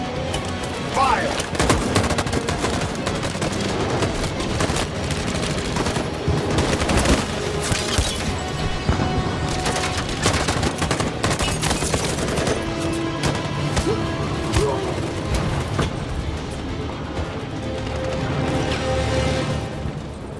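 Sustained battle gunfire in the video game Detroit: Become Human, with loud, dense volleys and bursts going on without a break, crashes mixed in, and shouted voices now and then.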